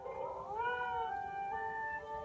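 A cat meowing in the video game Eternal Sonata, one drawn-out rising-then-level meow, clear and fairly quiet with no talk.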